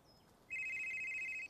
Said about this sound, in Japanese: 電話が鳴る音。